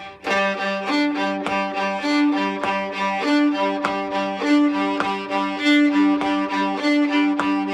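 A fiddle bows a quick, driving rhythmic pattern of short repeated strokes mimicking a drum beat, close and steady, with no talking.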